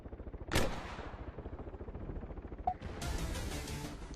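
Gunfire in the Arma 3 video game during a King of the Hill match: a few sharp, loud shots ring out over a steady, pulsing background rumble.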